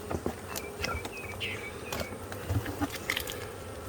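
Honeybees buzz faintly inside a queenless hive colony, a soft insect hum with scattered brief chirps and taps layered over it.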